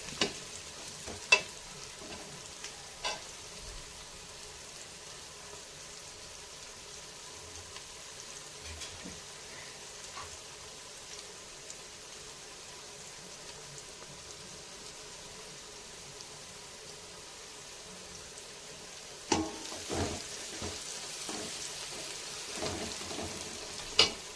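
Coriander and mint leaves sautéing in a pan for mutton dum biryani, a faint continuous frying sizzle with occasional scattered stirring clinks and taps, a few louder near the end.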